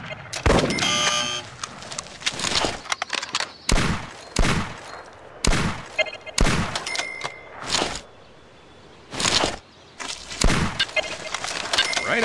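Gunshots from the Wii hunting game Cabela's Monster Buck Hunter: a series of sharp, loud blasts spaced a second or so apart, with game sound effects between the shots.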